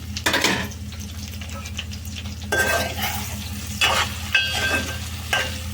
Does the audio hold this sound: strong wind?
no